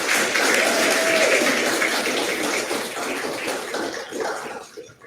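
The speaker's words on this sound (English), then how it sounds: "One final round of applause for everyone." Audience applause at a 2023 undergraduate research awards recognition event honouring STAR and NSERC USRA recipients: dense, steady clapping from a large crowd that holds strong for several seconds, then thins and tapers toward the end.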